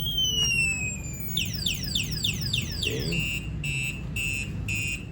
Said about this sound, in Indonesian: Nah, ketika alarm aktif, ini kita sentuh, dia akan berbunyi